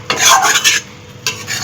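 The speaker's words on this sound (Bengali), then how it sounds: "ভেজে রাখা আলুগুলো দিয়ে ভালো করে একটু নেড়ে দেবো" Fried potatoes being stirred into cooked spice masala in a pan, a close, loud scraping stir in two bursts with a soft sizzle beneath and no voices.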